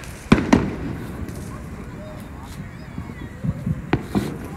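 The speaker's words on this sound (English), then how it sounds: "I don't think these are the fireworks show that we're about to see" Fourth of July fireworks in Florida going off ahead of the main display: a few sharp, distant pops, two close together at the start and another near the end, over a low outdoor crowd murmur.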